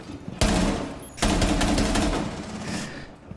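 Automatic gunfire in Rainbow Six Siege rattles in two sustained, loud bursts of rapid shots, the second longer and tapering off, close-up with no speech over it.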